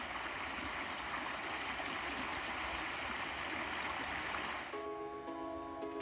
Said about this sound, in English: a nice trickling creek